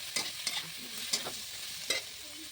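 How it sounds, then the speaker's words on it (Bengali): Spices and potatoes frying in oil as they're stirred, a steady sizzle broken by four or five sharp scraping strokes of a spoon against the pan, close and clear. "এবার ভালো করে আমি মশলাটা এই আলুর সঙ্গে কষিয়ে নেব।"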